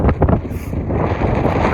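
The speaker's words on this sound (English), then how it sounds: "I'm wondering if you can hear the very prosperous wind that there is on the view here today." Strong wind blows outdoors by the water on an evening shore, a loud, close rumble buffeting the microphone in gusts throughout the short stretch, with no talk.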